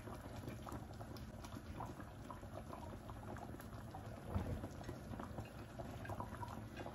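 Sauce for shrimp patties boils steadily in a pot, a dense, constant bubbling simmer heard close and alone with no talk.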